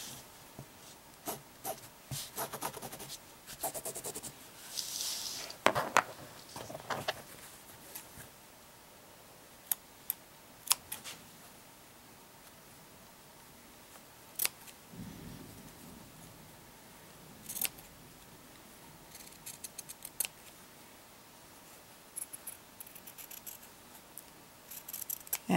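Scissors snipping paper or vinyl while cutting letter shapes for a baby's room wall decor: scattered short cuts and ticks, fairly quiet and close, with pauses between bursts and no talking.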